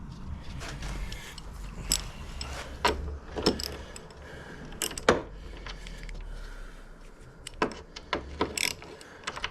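A ratchet wrench clicks in bursts while tightening a wheel nut on a 2009 Chevrolet Impala during a wheel bearing job, with sharp metallic ratcheting and clacks over a quiet garage background.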